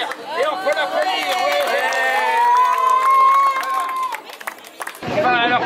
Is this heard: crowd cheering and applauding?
yes